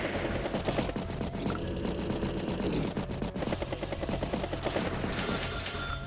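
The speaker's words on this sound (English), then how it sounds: "Recon battlecopter. Does strike the Neo tank." Battlecopter attacking a Neo tank in Advance Wars by Web, a dense burst of rapid machine-gun fire over rotor thrum with a sharp metallic finish near the end.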